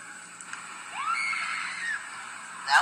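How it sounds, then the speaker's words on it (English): A shrill, rising scream from the Zelda Twilight Princess video game, likely tied to a Shadow Beast fight, sustained for about a second then trailing off, loud and alone over a quiet game backdrop. "fairly realistic scream"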